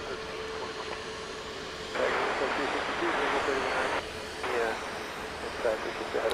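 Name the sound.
Southwest Boeing 737 MAX 8 jet at Dallas Love Field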